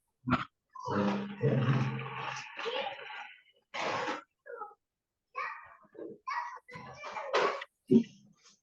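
A small dog barks in short sharp bursts, some rough and growly, scattered through an otherwise quiet stretch of an online class with brief gaps of silence.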